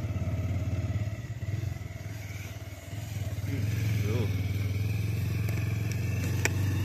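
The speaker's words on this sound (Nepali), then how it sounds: "सबैतिर ठुकिन्छ बाइकले।" A motorcycle rides over a stony mountain road toward Sandakpur in Ilam, eastern Nepal. The engine hums steadily up close, with occasional clatter and rattle from the rough surface.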